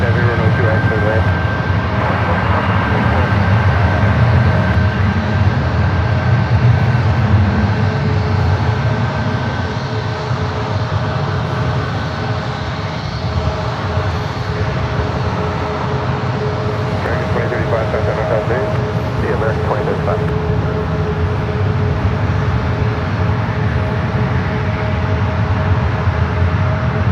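A Japan Air heavy jet comes in to land at San Francisco airport, its engines a steady, broad roar that fills the whole stretch. Air traffic control radio voices talk over it.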